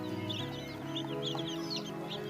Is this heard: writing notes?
no